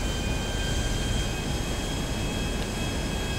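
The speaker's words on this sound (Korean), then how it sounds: "잠깐만, 저 비행기들은 많네." Aircraft in GTA 5 fly overhead, a constant broadband jet roar with a thin high whine running over it, steady and fairly loud, with no talk.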